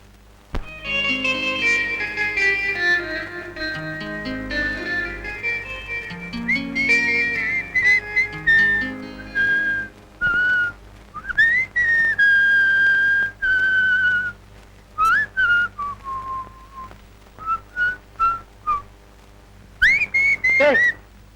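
A person whistles a loud, clear, wavering melody close by, with long sustained notes at first, then shorter bursts separated by brief pauses.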